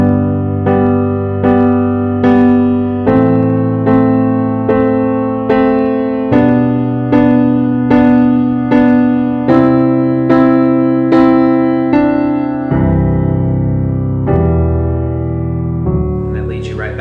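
Solo piano plays the interlude chord progression of a song, steady repeated chords sounding clearly and closely in an even rhythm for about seventeen seconds with no voices.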